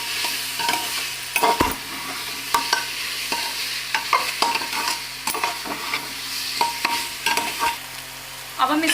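Masoor dal tadka is stirred and roasted in a pan with a steady sizzle, broken by frequent scraping and clinking strokes of a spoon against the metal, close and fairly loud, with no voices.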